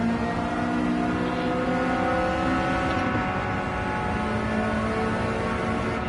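A car engine in Gran Turismo 7 holds a steady, droning note with a rich harmonic hum as it revs through a tunnel, loud and continuous throughout, with no talking.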